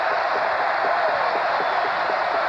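A basketball arena crowd cheers during a North Carolina versus NC State game, a dense, steady roar that holds loud and continuous throughout, with no single voice standing out.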